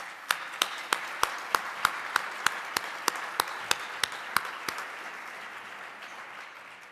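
A handful of people clap in a steady, evenly spaced rhythm during a keynote lecture event, about a dozen crisp claps that thin out and stop, leaving quiet room tone.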